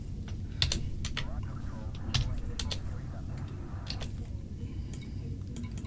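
Loud clattering computer keyboard typing with sharp irregular keystrokes, played over continuous low background hum during a session of the game Elite: Retribution; occasional faint voice beneath.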